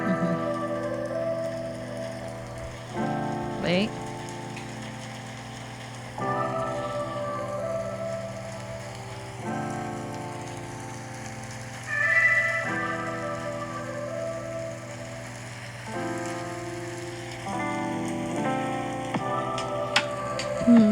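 Lo-fi instrumental song with soft rain-like ticking and patter running through steady chords and melody, moderately loud throughout; a brief spoken word slips in near the start.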